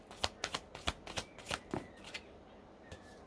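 Tarot cards being shuffled by hand, a quick close run of riffling flutters that tapers off into quiet with one last soft tap.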